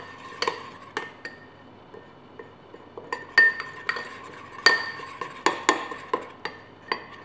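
A spoon stirs a rice flour mixture in a bowl, making a quiet series of irregular clinks and scrapes against the dish, sparse at first and quicker toward the end, close by with no speech.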